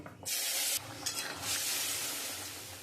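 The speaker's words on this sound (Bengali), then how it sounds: "আমি এর মধ্যে এবারে তরকারিটা ঢেলে দেবো" Curry poured into hot oil tempered with cumin seeds and bay leaf, made with prawns and cucumber: a loud, steady sizzle and hiss that bursts up at the pour, then keeps frying with stirring, and no voices.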